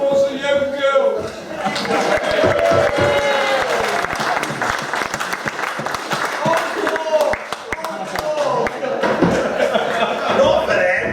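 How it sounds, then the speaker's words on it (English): Clapping from a village harvest supper audience at an amateur comedy stage show, steady and sustained under chuckles and overlapping voices, close and fairly loud throughout. "Round of applause for the young girl."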